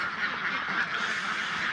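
A flock of farm ducks on a river quacks steadily and continuously in a dense chorus, with no talking.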